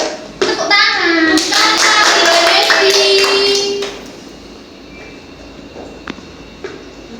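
Clapping from a second-grade math class during a microteaching lesson, a burst of children's hands with rhythmic claps and voices mixed in, close and loud, then fading to quiet room tone with a few faint taps.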